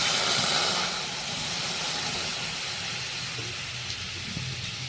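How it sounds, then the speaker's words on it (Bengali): Water splashed into a hot kadai while making aloo kulcha gives a broad, steady steam hiss that is strongest at first and then settles to a softer sizzle, with no voices. "এবার গরম হয়ে গেছে, আমি জল দেবো। এরকম প্রথমে জল দেবো।"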